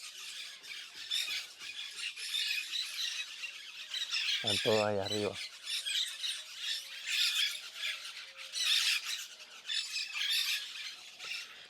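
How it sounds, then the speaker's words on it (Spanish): A flock of white-winged parakeets squawks continuously at a bird site, shrill harsh calls overlapping throughout while someone speaks Spanish over them. "como pueden oír, hay un montón de pericos aliblancos aquí."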